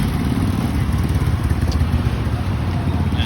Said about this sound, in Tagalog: At saka halos lahat ng tao may mga motor eh.